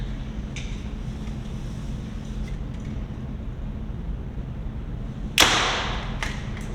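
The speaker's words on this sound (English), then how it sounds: "We're gonna shoot a bunch of different arrows here." A Mathews Lift 33 compound bow shoots a Gold Tip 22 arrow: a single sharp thwack and a brief whoosh cut through a steady low background hum, with a faint tick just before.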